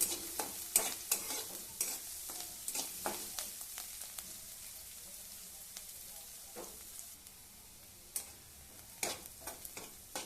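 Onions fry for egg curry in a pan over a medium gas flame, a quiet continuous sizzle punctuated by repeated scraping strokes and taps of a stirring spoon.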